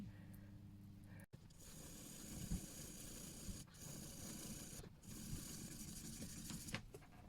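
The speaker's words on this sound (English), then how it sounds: "I'm just going to sand it down to the matte finish." Someone sands a metal watch casing to a matte brushed finish, producing a steady, quiet, close rasping scrub with brief pauses between strokes and no talking.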